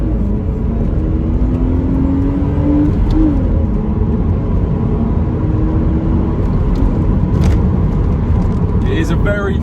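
A BMW Z4 drives along with a steady engine rumble and a rising accelerating tone, heard from on board under continuous road noise, with faint bird chirps near the end.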